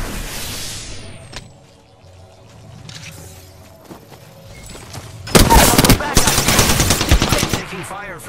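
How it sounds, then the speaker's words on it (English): Heavy automatic gunfire in the battle royale video game Apex Legends, a loud sustained burst arriving in the last few seconds after quieter game sounds and brief scattered shots. "Taking fire, friends."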